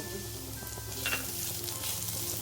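Onion, ginger and a handful of garlic cloves sautéing in hot oil in a pan, giving a steady, close sizzle with faint scraping and clinks of stirring, no voices.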